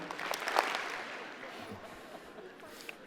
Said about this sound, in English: let's give a two clap for our former Chancellor, Chancellor Emerita Joanne Cuthbertson.